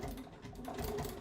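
Sewing machine running steadily while stitching fabric in a sew-along project, a continuous close mechanical whir with a slight rise in intensity toward the end, no talking.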